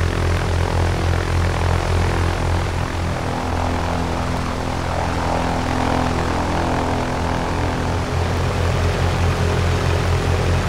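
Aircraft engine in the X-Plane 11 flight simulator, recorded from a real aircraft: a loud, constant propeller drone with a strong low throbbing hum and a broad airy roar, steady throughout with no voices.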